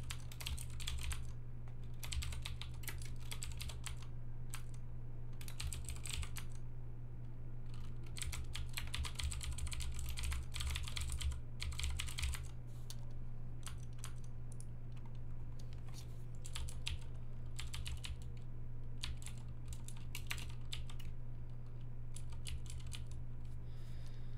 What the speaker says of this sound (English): Just typing in my card details here.